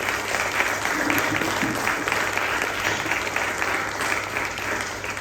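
After a film screening in a library courtyard, the audience breaks into loud, sustained applause that stays steady and close throughout.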